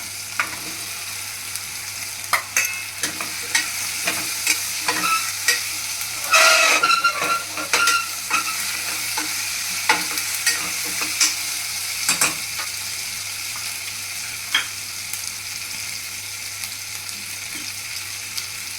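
Potato pieces with half a spoon of turmeric fry in a pan for a Gujarati potato sabzi, a continuous low sizzle punctuated by sharp spatula clicks and scrapes, with a louder, hissier burst of stirring near the middle and no speech.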